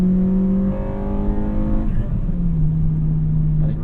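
A 2006 Acura RSX Type S engine climbs steadily in pitch as it revs, then briefly crosses into VTEC with a harder-edged tone before easing back, heard from inside the cabin with no talking.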